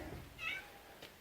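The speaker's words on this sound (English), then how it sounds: "So shut up, cat." A cat meows faintly in the background, one short cry followed by a softer second one, over quiet outdoor ambience on a rural property.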